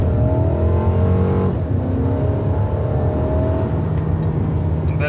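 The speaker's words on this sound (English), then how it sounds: "That was acceleration." A 2020 Mercedes A-Class AMG A220 accelerates in sport mode on a cold night drive, the engine rising in a smooth, steady drone heard from inside the cabin, loud and continuous with no talk.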